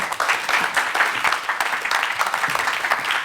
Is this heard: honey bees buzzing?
no